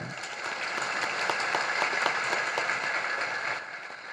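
An audience claps steadily through a religious discourse, a dense, even patter of many hands at moderate loudness, with no talk over it.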